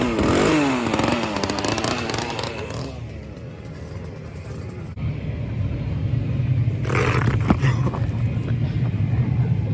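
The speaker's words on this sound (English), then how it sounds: "Chainsaws!" Chainsaws roar at a haunted house attraction, a loud revving buzz filling the first few seconds, then dropping to a low idle rumble before a second sharp burst of revving returns near the end.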